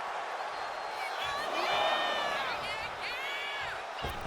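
Virtual arena crowd in the WWE 2K25 wrestling video game cheering and whooping during a women's match, a loud roar with rising shouts beneath excited commentary voices.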